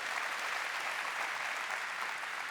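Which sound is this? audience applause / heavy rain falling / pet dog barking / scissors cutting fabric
audience applause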